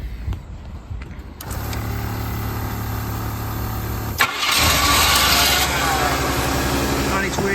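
The engine of a 1985 Cadillac DeVille, previously suffering a no-start, no-crank fault, cranks and fires up loudly and close by. It settles into a running idle, then a second surge rises as the engine catches and revs.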